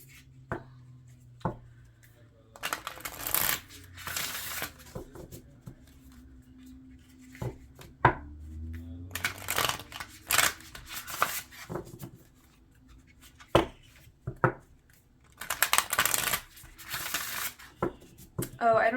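A deck of oracle cards being shuffled by hand during a card reading: soft repeated riffling and flicking bursts, close and fairly quiet, recurring in several short runs with low hum and faint handling noises between them.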